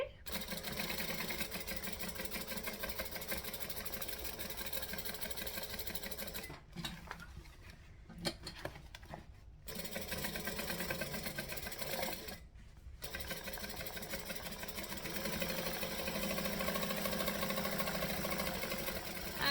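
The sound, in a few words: sewing machine stitching fabric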